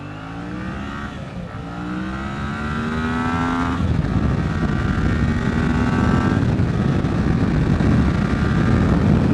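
Yamaha MT-07 motorcycle, a 2019 model with ABS, ridden hard: a loud, close engine roar with rising and falling pitch as it revs and slows, steady wind rush underneath throughout.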